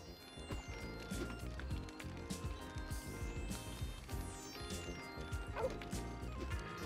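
A dog barks repeatedly in the video game Lego City Undercover, set in a scrapyard, sharp yips mixed with game music, clattering effects and thumps.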